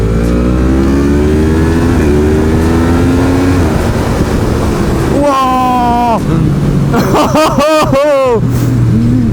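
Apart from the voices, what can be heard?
Yamaha MT-10 2018 motorcycle engine accelerating, revving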